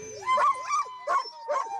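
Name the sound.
sled dogs barking and yipping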